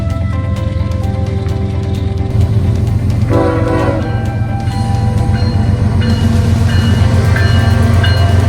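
A manifest freight train rolls past close and loud, its continuous heavy rumble and wheel noise joined by a sustained horn blast partway through.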